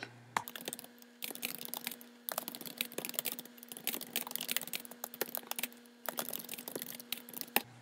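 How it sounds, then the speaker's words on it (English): Rapid keystrokes on a computer keyboard while text is typed into a Google Forms field, a steady close clatter of clicks in bursts with brief pauses, no talking. "I'm going to type that in."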